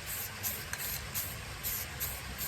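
Steady spray paint aerosol hissing onto a tumbler with short rhythmic pulses of spraying, close and fairly loud, no voices.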